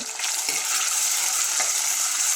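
Chopped ginger and garlic fry in coconut oil in a pan for a fish curry, a steady close sizzle with two soft stirring scrapes, no voices.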